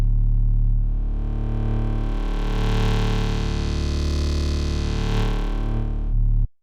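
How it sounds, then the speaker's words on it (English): Dubstep bass synth built in Serum on the amber wavetable, its wavetable position being swept. A thick, distorted, sustained bass tone shifts in timbre over about six seconds, then cuts off abruptly. "Now if you move this wavetable position, it's going to change the sound."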